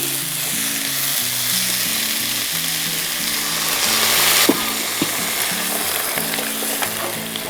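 Tomatoes frying in a pan, loud steady sizzling throughout with a brief sharper burst near the middle as water goes in, over a background of soft steady musical tones.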